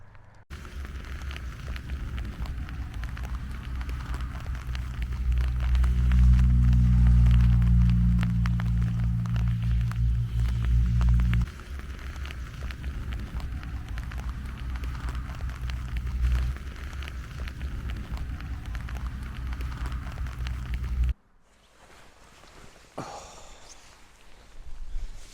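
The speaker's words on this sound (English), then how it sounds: "that's the rain easing off. That was quite a heavy storm, that was." A heavy rainstorm in Glencoe in the Scottish Highlands roars steadily from close shelter behind a boulder, with a low rumble swelling midway before easing. The sound then drops abruptly to quieter dripping and wind.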